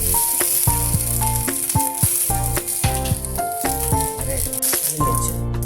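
Fish roasts in banana leaf on a hot dosa griddle over a stove, with steady loud sizzling and rattling crackle throughout.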